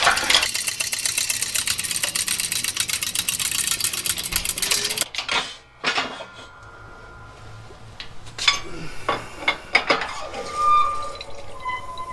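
A press forcing a Toyota axle out of its bearing, starting with a loud continuous buzzing mechanical drone, then a sudden drop to quiet with scattered metallic knocks and creaks as the axle breaks loose.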